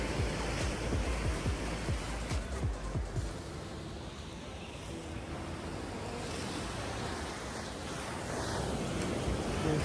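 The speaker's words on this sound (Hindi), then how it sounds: "समुंदर," Sea waves washing onto the shore near a river mouth and embankment at Udupi, a broad continuous surf roar mixed with gusting wind noise on the microphone.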